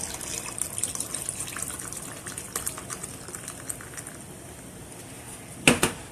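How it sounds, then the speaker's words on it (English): Gosling's ginger beer pours into a strawberry ginger mule cocktail with tequila, a close, fizzy splashing stream with crackling bubbles that tapers off, ending in a sharp clink. "So put 2 ounces of Patron in there, and then Gosling's ginger beer."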